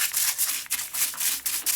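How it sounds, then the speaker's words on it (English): A brush scrubs a Harley 650 single XL Sportster engine part with solvent, rhythmic bristly rubbing strokes repeating close up with short pauses between passes. "See, the brush gets in really in the tight spots."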